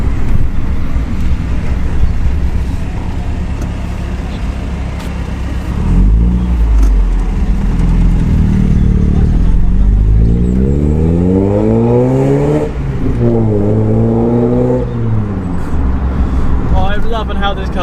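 Mazda MX-5 engine and exhaust revving close by, first a low idle burble and then several climbing rev sweeps that rise and drop, with a person talking over parts of it.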